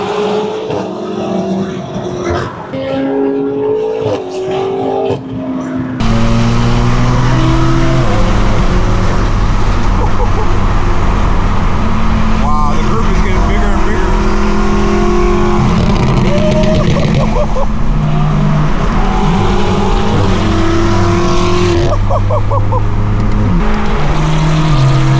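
BMW X5M engine and exhaust revving hard, with a loud deep roar rising and falling through gear changes during a street drive, heard over a constant close cabin drone.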